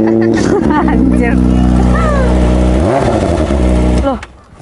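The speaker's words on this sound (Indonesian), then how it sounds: "ini kan sepeda motor yang tadi ya?" A motorcycle engine revving loudly close by, a rough droning roar with pitch swells and a dip before it drops away at the end, while people talk over it.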